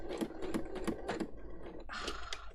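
A sewing machine fitted with an open-toed foot stitches in short, uneven bursts of quick mechanical clicks and whirring, close and fairly quiet, then a higher whine as it runs briefly.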